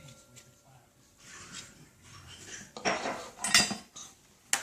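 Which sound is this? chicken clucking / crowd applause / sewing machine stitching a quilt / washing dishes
washing dishes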